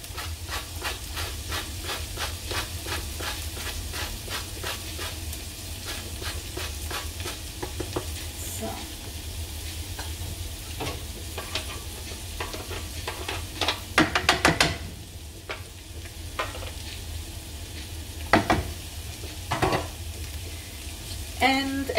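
Onions and ginger sizzle and fry in a pot for a vegan lentil soup with coconut milk, a steady loud hiss broken by scraping spoon strokes as the mix is stirred, with no voices.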